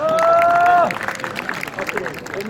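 Audience applause at a foot volleyball (jokgu) tournament in Ulsan Buk-gu, a dense crowd clapping under a brief opening whistle-like tone, fairly loud and steady across the short stretch with some crowd noise mixed in.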